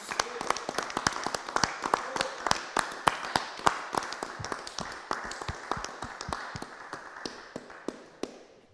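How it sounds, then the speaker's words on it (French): A corporate convention audience at Groupe Legrand claps, a steady stream of sharp, fairly distinct hand claps at moderate distance, fading slightly toward the end, with faint voices underneath. "j'ai vraiment très envie de vous applaudir tous"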